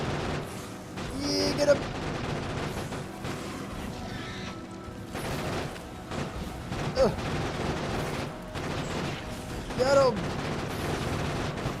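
Grenades burst and guns fire in Factorio Space Age on the island world Fulgora, a steady crackle of shots punctuated by three sharper blasts, while a player talks excitedly throughout.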